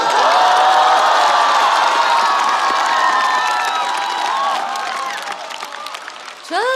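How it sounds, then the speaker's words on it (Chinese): A television studio audience at a Chinese roast comedy show claps and cheers, the dense applause with whoops gradually thinning out, and a host's voice entering at the end. "这么多掌声，都认识我？"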